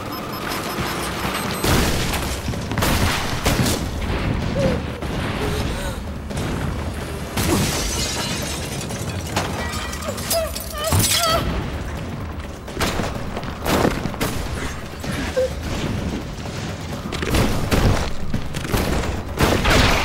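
A bomb blast in a horror film arrives as a dense, loud barrage of booming explosions and crackling debris, sustained throughout, with voices faintly mixed in.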